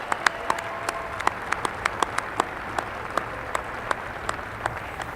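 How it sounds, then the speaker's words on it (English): Applause at a business gala for finalists and winners, with individual claps standing out as distinct sharp strikes over a softer crowd wash, moderately loud and steady throughout. "Let's have one more big round of applause for all our finalists and winners"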